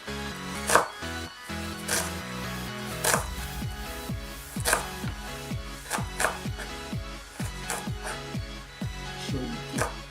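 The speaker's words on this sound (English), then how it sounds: "Be careful when you chop these. I'm using a really sharp knife." Sharp knife chopping through onion on a board, a rapid run of crisp, close knocks in a fairly even rhythm with a few pauses, loud and unaccompanied by talk.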